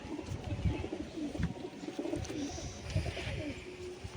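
A female pigeon coos in low, repeated soft phrases, close by and steady throughout, with faint rustling around it.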